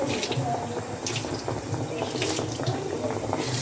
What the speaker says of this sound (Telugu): కొంచెం నీళ్లు దీంట్లో పోసేద్దాము.